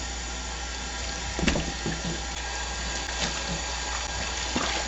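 Water running from a tap to rinse a hand-washed bra in a sink, a steady gushing flow with brief splashes and sloshes as the fabric is handled.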